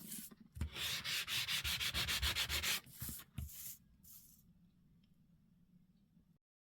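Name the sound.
sandpaper block sanding a magazine page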